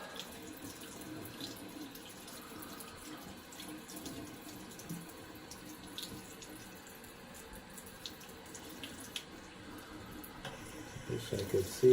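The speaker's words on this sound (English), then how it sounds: "Wish I could see to rinse my blade off here" A bathroom tap runs steadily to rinse a razor blade during a wet shave, a faint continuous water stream with small splashes and clinks, ending in a few louder knocks.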